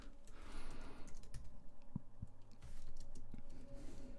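Typing on a computer keyboard, a run of soft close clicks and taps, some louder than others, continuing over a low background hum with no talking.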